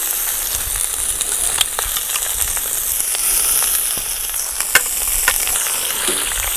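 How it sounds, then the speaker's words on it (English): Oxtail frying in a pot with a loud, steady sizzle and scattered crackles and pops, heard close up and uninterrupted. "We're going to fry this oxtail until they are nice and brown on all sides"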